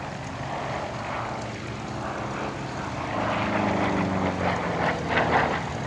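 A Yak-3 and Yak-11 propeller fighter pair fly at an airshow in Paris-Villaroche, a continuous droning engine roar that grows louder partway through as they come nearer, with no talk.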